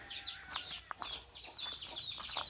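Chickens cluck and squawk in a rapid, overlapping chatter, a small flock close by with no voices over them.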